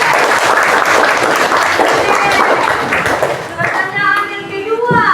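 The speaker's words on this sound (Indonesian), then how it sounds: "berikan tepuk tangan applause" An audience breaks into sustained applause at a church talk, dense clapping filling the room at close range, thinning slightly near the end.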